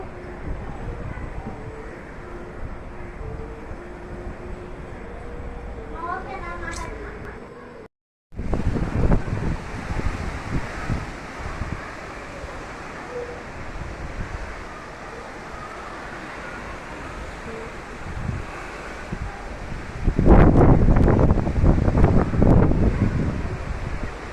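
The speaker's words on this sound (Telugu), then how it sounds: "ఇంకా అన్నీ పడిపోయేంత శబ్దం వస్తుంది గాలికి" Strong gusty cyclone wind roars and buffets the microphone, with a brief dropout partway through and a louder surge of blustering gusts near the end.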